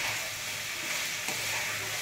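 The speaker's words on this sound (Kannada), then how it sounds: "ಈಗ ಬದನೆಕಾಯಿ ಹಾಕ್ತೀನಿ" Cut eggplant pieces frying in hot oil in a pan for a Kannada-style palya, a steady close sizzle and crackle, continuous and unbroken with no voices.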